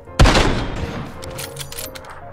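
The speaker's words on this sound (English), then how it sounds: "No, they know exactly where he's shooting from." A single loud gunshot in PUBG Battlegrounds with a sharp onset followed by a rolling, decaying echo and faint scattered noises afterward.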